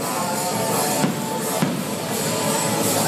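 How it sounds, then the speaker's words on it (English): Fireworks display over Camelback Ranch stadium after a baseball game: a steady wash of crackle and rumble with two sharper bangs standing out, heard from a distance. "You're watching the fireworks display at Camelback Ranch"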